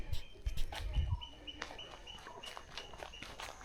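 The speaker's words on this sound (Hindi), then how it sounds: "पक्षियों की आवाज़ सुनाई देती है पूरा दिन" Small birds chirp and call intermittently along a quiet road in Sri Lanka, faint and somewhat distant, with soft footsteps and scuffs close by at the start.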